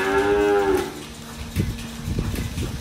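A dairy cow gives one loud, close, drawn-out moo that fades after about a second, followed by quieter shuffling and thumping sounds nearby.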